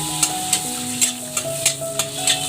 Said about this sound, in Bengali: আর দেব এখানে লবঙ্গ, দারচিনি, এলাচ। দিয়ে একটু